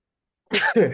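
A single short, sharp sneeze bursts out after a silent pause, loud and close, in two quick bursts.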